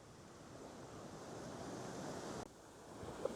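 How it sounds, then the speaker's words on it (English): Wind-driven ocean surf rolls in continuously from close by, a steady broad wash of breaking waves with gusting wind buffeting the microphone throughout. "windy waves right in front of you"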